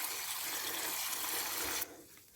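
Water poured onto a potted hydrangea before transplanting, a steady close gush of liquid that cuts off abruptly near the end, leaving quiet.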